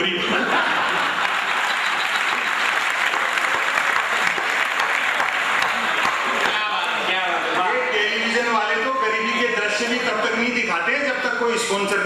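Sustained, dense applause from an audience at a Hindi poetry gathering, loud and steady throughout, with voices rising through the clapping in the later part.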